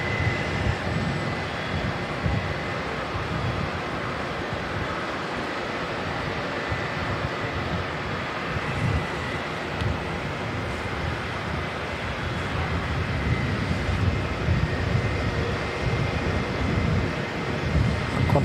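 A Qantas airliner arriving from Adelaide at Auckland Airport, its engines giving a continuous loud broadband roar with wind buffeting the microphone, sustained without a break.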